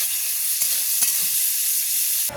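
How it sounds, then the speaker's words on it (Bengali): Bitter gourd fries for shukto in a pan, giving a steady, loud, close hiss of sizzling oil with a couple of faint ticks of stirring, and the sound cuts off sharply near the end. "প্রথমে তো উচ্ছেটা ভেজে নিচ্ছি"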